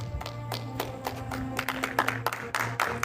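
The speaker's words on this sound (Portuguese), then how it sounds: "Palmas para Jesus." A church congregation claps for Jesus in scattered, uneven applause, sharp hand claps close by over a low sustained hum, with a faint murmur of voices.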